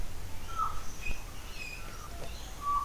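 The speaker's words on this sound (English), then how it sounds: "This small bird is a black-throated butcherbird." A black-throated butcherbird sings in the Brisbane area, a few short, clear whistled notes spaced apart, faint and distant over quiet low background hum.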